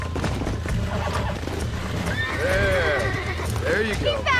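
A horse in the video game Red Dead Redemption whinnies twice over the clip-clop of hooves, with people talking over much of it; the neighs sound close and fairly loud.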